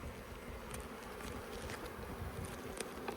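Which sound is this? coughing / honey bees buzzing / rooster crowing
honey bees buzzing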